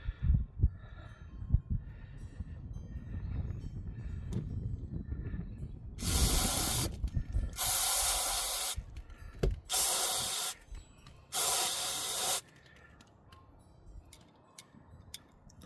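Cleaner sprayed from a nozzle onto a mass air flow sensor of a 2018 L5P Duramax, with four sharp, loud hissing bursts in a row after a stretch of quiet handling and light tapping.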